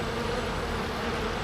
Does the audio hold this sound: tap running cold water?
no